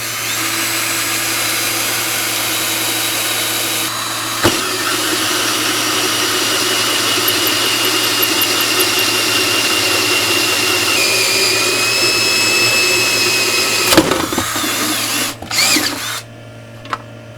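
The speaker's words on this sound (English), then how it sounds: "So if I drill 2 holes centered up like that, that should do it." An electric drill whirs steadily at close range, its motor pitch shifting as it bites into material, then stops and restarts briefly near the end.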